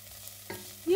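Chopped onions fry in a pot with spices: a brief scrape of stirring, then a rising sizzle close to the pan.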